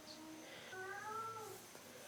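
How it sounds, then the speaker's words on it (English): A house cat cries in the background with one drawn-out, wavering meow that rises and falls, faint and alone over quiet room tone. "That's my cat Felix crying in the background"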